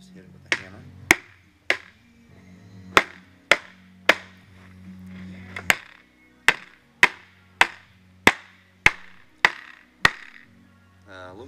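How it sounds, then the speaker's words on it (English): Sharp metallic hammer strikes on an aluminum radiator ring out one after another, about fifteen blows in a fairly steady rhythm, close and loud with brief pauses between. "just hit it with a hammer."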